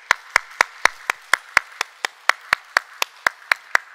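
A church congregation claps in unison to a steady, even beat, about four sharp claps per second, with no voices over it.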